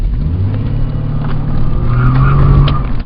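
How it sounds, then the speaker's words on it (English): An old, powerful Chevy drifts in Forza 6, engine droning loudly and steadily while the tires spin and squeal through the slide, with no talk. "That tire spin, holy shit."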